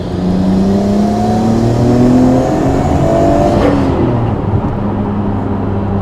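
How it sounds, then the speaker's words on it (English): A Nissan R34 GT-R engine with an HKS titanium exhaust drones steadily with rising pitch as it revs, then drops off sharply near the end, loud and close. "I like how you can hear the engine more."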